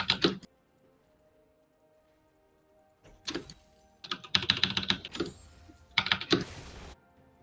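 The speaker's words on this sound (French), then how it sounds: "C'est vrai qu'on entend quand même un peu ton clavier" Bursts of computer keyboard typing during a video game, quick clattering keystrokes in short clusters separated by quiet pauses, fairly close and moderately loud.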